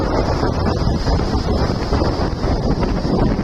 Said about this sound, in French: On est sur un vent de nord, ouais, nord-nord-ouest. Bon, ça souffle un peu plus fort.